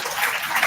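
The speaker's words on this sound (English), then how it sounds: "So we are all clapping for you." A conference audience claps for students, a short burst of dense, even applause from many hands in a hall.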